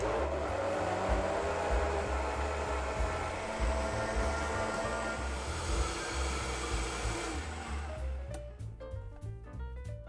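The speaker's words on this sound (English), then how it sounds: "Just blend everything up until it's nice and smooth and creamy." A blender whirs steadily while blending a vegan tofu cheese sauce made with mustard, lemon, vinegar and plant milk, a continuous motor drone that holds for about eight seconds and then winds down.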